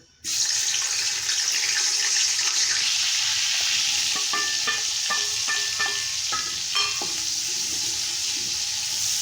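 Steady hissing sizzle of ginger and garlic frying in a pan, loud and close, with a few light clinks of a utensil partway through.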